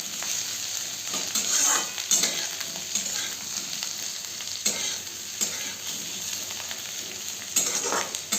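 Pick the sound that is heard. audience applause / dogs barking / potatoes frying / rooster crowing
potatoes frying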